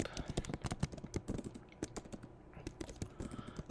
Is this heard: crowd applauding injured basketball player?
no